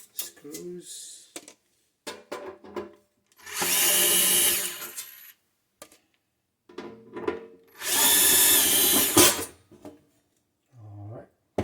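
A power drill removes screws from a Breville espresso machine, running in two loud sustained whirring bursts of a few seconds each, with brief clicks and handling noises between them and a person talking in short phrases.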